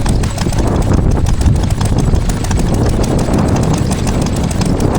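A 1936 Ruston Hornsby 6PB stationary engine drives a Lee Howell pump at a heritage transport show, with a loud, close, steady rapid thumping that runs alone without pause.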